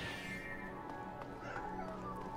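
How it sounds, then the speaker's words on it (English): A cat meows inside the video game Phantasy Star Online 2, a quiet, drawn-out whining call set against soft game background sound. "Oh, there's a kitty cat."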